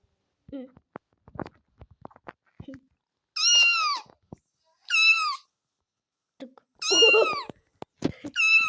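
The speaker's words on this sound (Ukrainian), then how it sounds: "На криші будівлі кіт." A cat meows loudly three or four times, long drawn-out cries between soft clicks and a few quiet spoken words.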